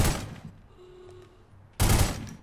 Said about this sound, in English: Let's use just regular old Tommy gun.